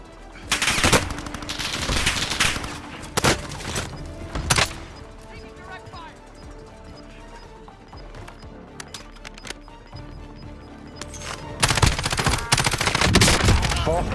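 Automatic gunfire in the shooter game Warzone, several loud bursts of rapid shots clustered early and again near the end, with quieter stretches of distant firing between, while players talk over it.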